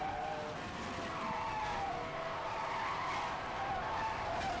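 A race car in Need For Speed drives hard with a steady engine drone and continuous tire squeal as it skids through corners, loud and close throughout.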